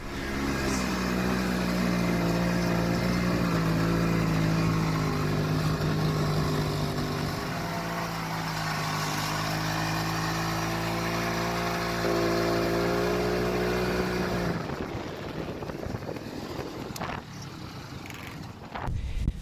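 A snowmobile engine drones steadily nearby while packing a trail across snow toward a lake in Alaska, holding a low, slightly wavering pitch before dropping off, leaving wind and faint scuffs at the end.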